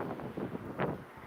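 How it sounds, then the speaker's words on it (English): Strong wind blows outdoors across an open area strewn with trash, a brief rough buffeting roar with one louder gust. "Cause I know it's windy. It's real windy out here."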